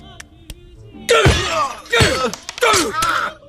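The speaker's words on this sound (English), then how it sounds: "Homer kills Bob by smashing a lamp on his neck." In a Simpsons cartoon, a lamp is smashed on a neck: three loud shattering crashes with breaking-glass tinkles, preceded by faint sharp taps and a voice underneath.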